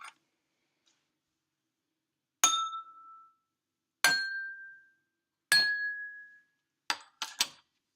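Glasses filled with different amounts of water are struck one at a time. Each gives a clear ringing clink that fades, and the pitches differ. Two quick taps near the end follow three spaced strikes, with silence between.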